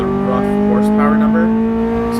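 Honda CRX with an STS exhaust revving toward redline: a loud, close, steady engine drone with strong tonal harmonics throughout the short stretch.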